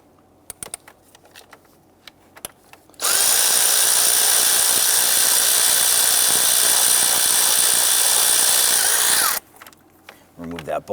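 A power tool, likely a drill or impact driver, runs steadily for about six seconds while loosening an 8mm bolt on an ignition coil of a 2011-2019 Ford Explorer 3.5L V6, with brief clicks and handling noise before and after.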